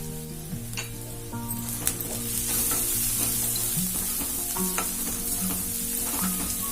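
Spicy chicken with garlic sizzles and fries steadily in a pan over low heat, with scraping stirs and clinks of a utensil throughout, close and fairly loud, with no talking.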